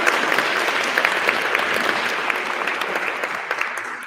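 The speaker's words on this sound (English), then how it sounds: "A round of applause" Steady, dense clapping from an audience at a student-led teaching awards ceremony, sustained for several seconds at full strength before beginning to taper, filling the room with no voices over it.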